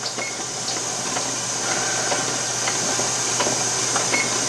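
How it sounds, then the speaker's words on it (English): Steady broadband hiss of steam venting continuously from a pressure canner while canning chicken stock, with faint clicks and a low hum underneath, no talking. "now it is starting to vent"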